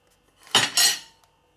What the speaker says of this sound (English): So I'm going to slice the sausages lengthways to make a sausage bap.